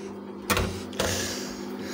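Two sharp clunks half a second apart, then a machine hum settles in and drones on steadily, close by.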